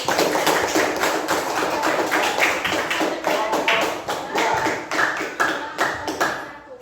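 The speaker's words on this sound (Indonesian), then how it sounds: "Tepuk tangan buat kelompok 1" Classroom applause for a student group, many hands clapping in a dense, uneven patter that swells and fades over several seconds, with a few voices faintly underneath.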